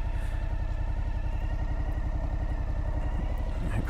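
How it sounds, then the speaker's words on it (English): A Suzuki V-Strom 1050 XT motorcycle engine runs close by with a steady, even throb and a faint mechanical clatter, holding a constant level throughout. "So, oh, you can actually see the bike now. Right, yes, so Suzuki V-Strom 1050 XT."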